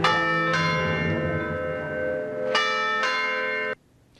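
Church bells at the Cathedral of St. Thomas More near Virginia Tech, tolling at noon in loud, ringing strikes that overlap and sustain before cutting off sharply near the end.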